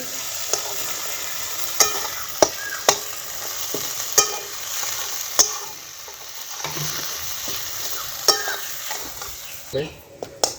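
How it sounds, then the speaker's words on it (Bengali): Salted potatoes stirred and frying in a pan, a steady sizzle broken by sharp scraping clicks of the spatula against the pan at irregular intervals, close and fairly loud throughout with no talking. "এবার এর মধ্যে আমরা এই নুন মাখানো আলুটা দিয়ে দেবো। দিয়ে ভালো করে নাড়বো।"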